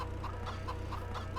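Chicken in Farming Simulator 25 clucking in a rapid, looping rhythm of short repeated clucks, steady and close over a constant low hum, with no voices.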